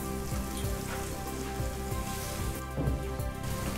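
Boiled potatoes tip into hot oil with spluttering cumin seeds, giving a steady close sizzle with crackling pops throughout and a brief louder clatter near the end as the pieces land in the pan.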